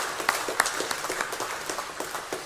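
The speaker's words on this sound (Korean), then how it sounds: "우리 주님께 영광의 박수 올려드리겠습니다." A church congregation at a Sunday worship service gives brief applause. The claps are close and uneven, in a moderate patter without voices.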